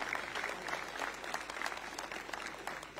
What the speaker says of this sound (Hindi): मैं चाहूंगा कि उनके स्वागत में आप सब लोग ताली बजाकर उनका स्वागत करेंगे।